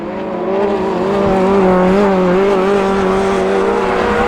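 Autograss race cars roar past at St Neots in a close battle for position, a loud, sustained engine drone with steady revving and faint tire noise, no talk over it.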